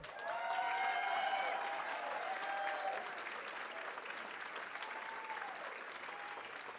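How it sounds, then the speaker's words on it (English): A roomful of people at a school auction event gives a warm round of applause for the event chairs, steady dense clapping with a few cheers, loudest at first and easing slightly. "we need to give a very special round of applause and a very heartfelt thanks to Katie Madison and Jessica Stecker"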